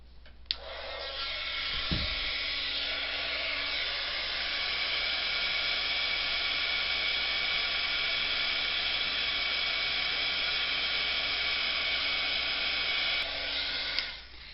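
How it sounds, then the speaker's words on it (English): A craft heat tool blowing continuously, a loud steady whooshing hiss that starts abruptly and runs unbroken before cutting off at the end. "then we're just going to heat the tool up again."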